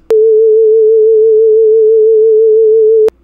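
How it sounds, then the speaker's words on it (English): A pure synthesized sine tone chirp holds steady for about three seconds, clean and loud, beginning and ending abruptly with soft clicks. "this is like a basic single chirp vibrato"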